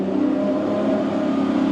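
Lamborghini Revuelto V12 hybrid engine revving in a tunnel, a steady loud mid-pitched roar held for under two seconds with no talk.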